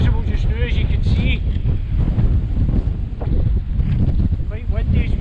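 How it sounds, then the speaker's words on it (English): Strong wind buffets the microphone in continuous low rumbling gusts on a hillwalk by Loch Skeen in the Moffat Hills, with faint voices or other sounds partly masked underneath. "Quite windy as well."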